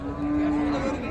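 A Sahiwal cow gives a single sustained low moo at a busy cattle market, loud and close over a background murmur of crowd noise.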